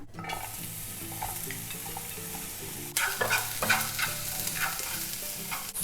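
Chopped onions drop into hot olive oil in a pan, and a steady sizzle jumps abruptly louder partway through, then crackles and hisses continuously up close with no voices.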